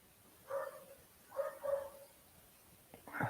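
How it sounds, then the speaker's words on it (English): A dog barks twice in the distance, a single yelp then a doubled bark, followed by a brief rustle near the end; quiet background otherwise. "Can you guys hear that dog barking?"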